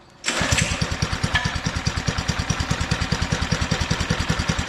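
A Doodle Bug DB30 minibike's small engine catches and settles into a steady, loud, rapid putter, its even pulses running close up with no talk over it.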